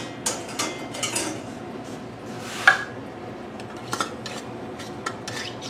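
A Tattler plastic canning lid clinks as it is set down on a glass jar, a single light click among a few soft kitchen clatters at close range.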